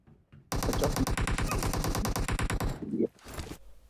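Sustained rapid-fire AKM bursts in PUBG Mobile, a dense loud stream of shots lasting a couple of seconds, then a short impact and a few fainter shots.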